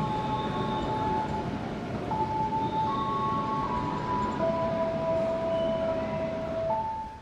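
Sancaka passenger train at Solo Balapan station, a steady low rumble of rolling stock with long sustained whistle-like tones that hold and shift in pitch, heard without speech.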